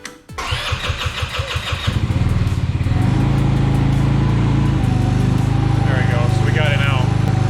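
A 150cc, 9.9-horsepower mid-engine caged go-kart engine cranks over with a quick rhythmic pulse, catches, and settles into a loud, steady idle up close with a little throttle, alone without talk.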